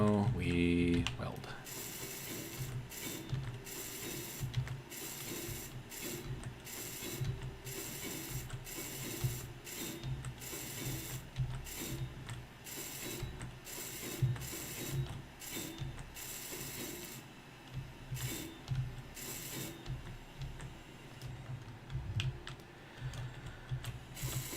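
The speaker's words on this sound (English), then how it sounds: "now we weld" A welding tool in the Space Engineers game runs steadily, a busy mechanical ratcheting and clicking that repeats for a long stretch at moderate volume.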